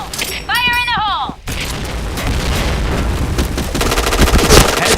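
A loud grenade blast followed by dense, rapid gunfire in the Point Blank shooter game, with bursts layered over a continuous roar and a game voice callout heard near the start.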